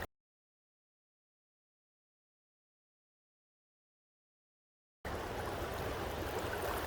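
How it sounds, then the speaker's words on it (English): Fast-flowing, cold Yakima River water in Washington. A long stretch of silence gives way to a steady, moderately loud rush of moving water for the last couple of seconds. "The water, you can see the speed of it moving very quickly."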